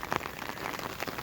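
Steady rain falls outdoors at a desert homestead, a dense, even hiss of drops hitting the ground, close and continuous for the whole moment.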